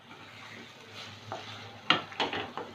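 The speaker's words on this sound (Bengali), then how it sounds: "এবার 2 মিনিট কষিয়ে নেব।" Prawns and potatoes sautéing in a pan with a splash of water, a soft low sizzle punctuated by several sharp spatula scrapes and clinks against the pan near the end, no speech.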